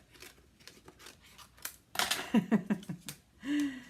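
Scissors cutting paper while making designer paper for a card: a run of quick, crisp snips, then louder close-up cuts in a short rhythmic burst, with faint room noise between.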